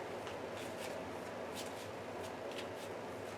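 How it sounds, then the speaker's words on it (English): Marvel Champions card deck shuffled by hand, a steady soft riffling hiss with quick repeated flicks, close and quiet, no talking. "Trying to give us a good shuffle."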